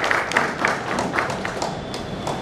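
Audience at a retirement function applauding, a loose scattering of claps at moderate level with some distinct individual hand strikes, fairly close, with a little talk mixed in.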